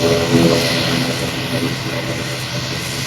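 An airplane arriving at Palaly airport in Jaffna, its steady engine roar filling the scene at close range, with people talking over it throughout.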